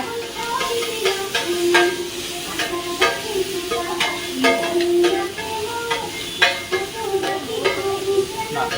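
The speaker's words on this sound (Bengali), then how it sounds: "এখানে তাওয়ায় গরম গরম করে ভেজে দিই" Chhat mutton fries on a hot tawa with capsicum, onion and tomato, giving a steady sizzle and hiss broken by frequent sharp metal scrapes and clinks of a spatula stirring, close and fairly loud with no talking.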